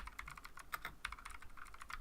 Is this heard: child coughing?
no